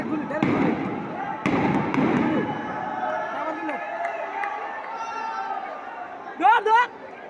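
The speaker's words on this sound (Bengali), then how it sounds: "এই গুলি মতাছে এই যে গুলি মতাছে" Sharp, loud bangs crack out several times during a student and police clash in Chattogram, with a crowd's chatter and someone talking loudly close by throughout.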